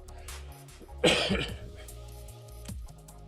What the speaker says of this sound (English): Please excuse this cough, by the way.